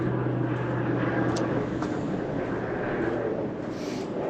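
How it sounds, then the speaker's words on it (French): An airplane passes overhead with a steady, distant engine drone that holds evenly throughout and fades slightly near the end, with no talking. "Je laisse passer l'avion."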